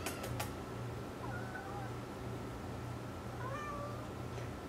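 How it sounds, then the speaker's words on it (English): A cat meows a few times, short plaintive calls close by over a low steady background rumble. "Why are you meowing while you lick me?"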